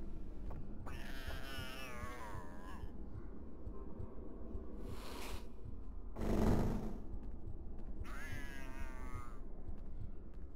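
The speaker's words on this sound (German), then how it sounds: "Da ist eine Katze." A cat meows several times in the Harry Potter and the Philosopher's Stone video game, drawn-out wavering cries spaced apart over a low game background, with a short burst of noise in the middle.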